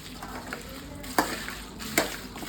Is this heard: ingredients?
yes